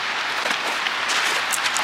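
Freezing rain falls outdoors near a hotel as a steady hiss of fine pattering drops, with occasional small crisp ticks, evenly loud throughout the short stretch.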